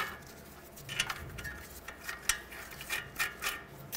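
A ratchet clicks in quick, uneven bursts while tightening the strut nuts on a Chrysler Sebring front suspension, faint and close with no talking.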